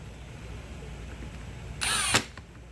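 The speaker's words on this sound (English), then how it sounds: "Put your screws back in the 3 slots on the top." A brief burst of a close power driver whirring as it drives a steel screw into a plastic magazine rail, rising out of quiet background hum and cutting off after about half a second.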